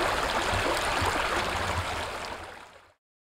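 Babbling water rushing over the rapids of the Vantaanjoki river, a steady broadband wash heard close and alone, fading out near the end.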